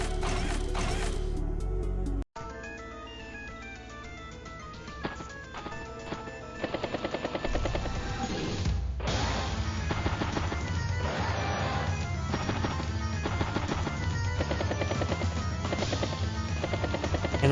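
Battlecopters massing in the video game Advance Wars: Days of Ruin, a sustained rotor-like chopping with rattling gun bursts and thuds set against loud game music.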